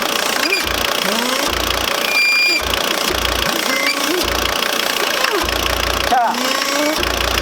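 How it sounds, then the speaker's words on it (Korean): A car engine idles with air leaking into the intake manifold, likely from a failed EGR valve gasket, giving a steady loud rumble with rhythmic knocking pulses and a hissy whistle of sucked-in air throughout. "공기가 새어 들어가는 소리가 들립니다."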